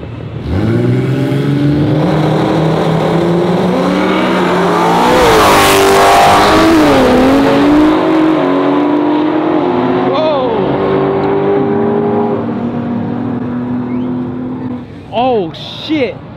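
A BMW G80 M3 and an S2K accelerate hard in a drag race at a BMW car event, loud engines revving and sweeping through gear changes nearby, with voices talking over the roar.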